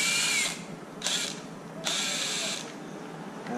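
A small power tool whirs in three short bursts while removing little screws from a Traxxas E-Revo 2.0 VXL RC car chassis, close up with brief pauses between runs and no talking.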